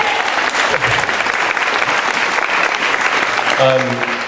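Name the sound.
wedding reception guests applauding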